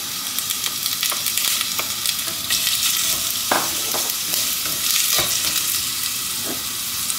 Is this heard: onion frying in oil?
yes